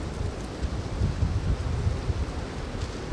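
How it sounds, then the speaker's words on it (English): Strong wind gusts roar across an outdoor camp with a lean-to shelter, a steady low rumbling buffet of air against the microphone with no voices. "if I was stuck here with this wind"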